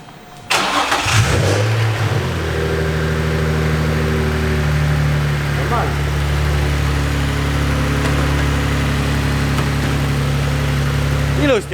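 A Nissan 350Z being readied for drifting cranks and fires up, then settles into a loud, steady idle that holds evenly for about ten seconds, close by with no voices.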